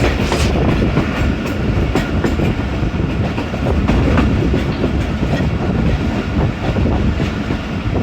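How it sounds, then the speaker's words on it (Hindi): Jaffar Express train passing through Hasan Abdal railway station in foggy winter weather, a loud, steady rumble of wheels and cars close by, rolling continuously with rhythmic clatter throughout. "दोस्तों हसन अब्दाल रेलवे स्टेशन से थ्रू पास हो रही है हमारी 40 टाउन जाफ़र एक्सप्रेस।"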